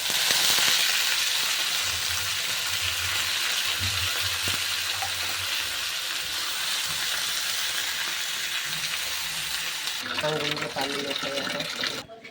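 Cumin seeds crackle in hot oil on a tava griddle where chili and garlic were just roasted, a loud, steady hiss of sizzling that runs unbroken before briefly thinning near the end.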